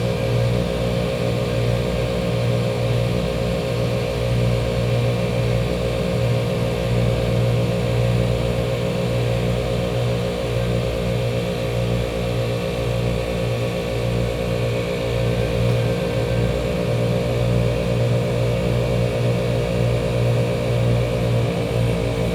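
An ARB dual air compressor mounted on an FJ Cruiser runs steadily to build pressure, a loud, constant mechanical hum and buzz close by with no change in pitch and no talk.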